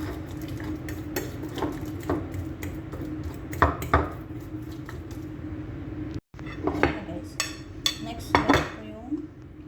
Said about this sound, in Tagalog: Smash lang natin siya, guys, hanggang sa maging smooth yung banana.